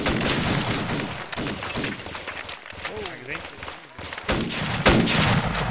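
A video game firefight set in French Indochina, with dense volleys of gunfire and fusillades, loud and close, and players talking over the shots.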